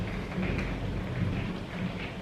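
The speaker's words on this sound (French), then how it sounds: "Tonnerre." Low, rolling rumble of thunder over a steady hiss of rain, with no voices.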